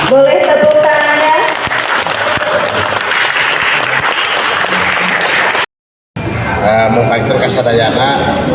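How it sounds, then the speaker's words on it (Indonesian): Loud audience applause at an Indonesian ceremony for the Hajat Gede Citarum 2023 event, dense clapping with some chatter and laughter, a brief dropout near the end before the clapping resumes. "Boleh tepuk tangannya?"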